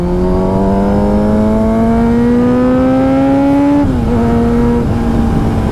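Kawasaki Z900 superbike engine pulling hard on an open road, a loud, close, rising whine climbing steadily in pitch before a quick drop at a gear change and a renewed steady drone, with heavy wind rush throughout.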